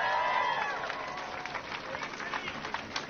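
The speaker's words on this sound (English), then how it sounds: "Clap that up." Audience applause and cheering from a crowd at an outdoor counter-protest rally against hate in Washington DC, steady and fairly close, with a voice carrying over the start before the clapping fills in.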